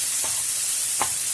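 Chicken grilling in a pan for a pizza topping gives a brief, steady sizzling hiss, with two quick soft scraping touches in it.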